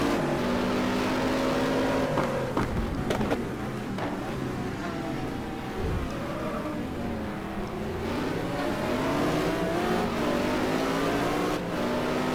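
Race cars in a GT1 video game race at Suzuka drone steadily in a close three-way battle, engines rising and falling in pitch through turns, with continuous overlapping engine noise throughout.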